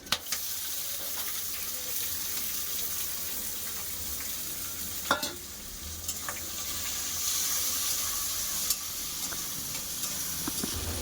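Onions fry for chicken biryani in oil spiced with cloves, black peppercorns, nutmeg, mace and cumin, giving a steady, moderately loud sizzle with a few sharp clinks and stirring sounds, without any talking.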